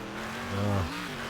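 Race car engine in the Wreckfest video game, damaged at the front so it steers poorly, drones steadily and swells briefly into a louder revving surge midway before settling back.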